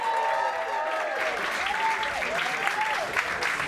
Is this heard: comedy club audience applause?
yes